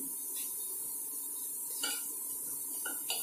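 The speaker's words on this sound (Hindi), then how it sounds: "अब इसमें मैं एक छोटा प्याज ये भी मैं भून लूंगी इसमें साथ में" Ginger, garlic and onion fry in a pan with a steady hissing sizzle, punctuated by a few sharp metallic clinks of a spoon stirring against the pan, close and fairly quiet.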